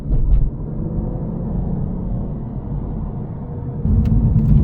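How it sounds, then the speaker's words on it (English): A 2009 Aston Martin DB9 V12 with a paddle-shift gearbox cruises along, heard from inside as a steady low engine and road rumble that swells slightly near the end. "This is the V12 with a flappy paddle gearbox"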